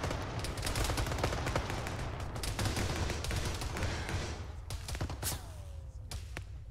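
Gunfire in the video game Arma 3 during a combined-arms operation on the Western Sahara map: repeated sharp shots and short bursts crack out at mid distance, fairly faint against a rumbling background, with no voices.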